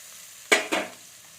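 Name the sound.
stirring and frying tomato in a pan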